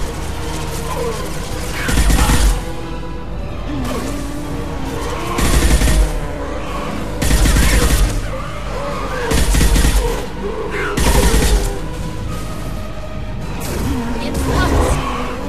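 Gunfire in Mass Effect 2 comes in loud, close bursts of rapid shots roughly every couple of seconds, with mechanical clanks and shattering between volleys and someone talking in between.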